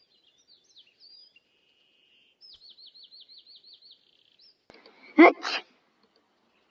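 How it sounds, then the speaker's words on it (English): A person sneezes twice in quick succession at close range, loud and sharp, following faint game chirps and tweeting sounds. "I'm sneezing."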